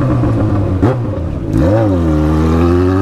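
A Yamaha XJ6 motorcycle carrying a passenger revs, drops briefly as a gear changes, then climbs again into a loud, sustained, rising engine note close by.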